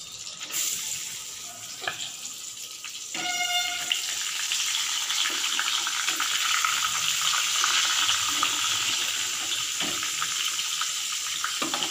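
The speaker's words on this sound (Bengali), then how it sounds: "এবারে বেগুনটাকে ছেড়ে দেবো" Brinjal slices dropped into hot oil in a small wok, a soft sizzle that rises after a brief clink and then carries on steadily at low volume.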